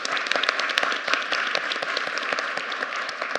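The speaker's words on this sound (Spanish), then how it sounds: "Faltó el aplauso" An audience at a panel discussion applauds, with dense and crisp clapping that stays steady and fairly close throughout.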